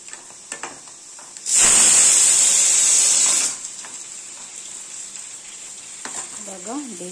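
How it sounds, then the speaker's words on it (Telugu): Potatoes dropped into hot oil for deep frying burst into a loud, close sizzling hiss lasting about two seconds, then settle into a faint, steady bubbling crackle. "డీప్ ఫ్రై చేయాలి."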